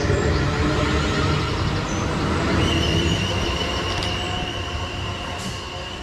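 A South Western Railway unit 444002 pulls out of a station on a delayed London Waterloo to Weymouth service, a loud rumble of wheels and motors with a long steady squeal and a few sharp clanks as it departs.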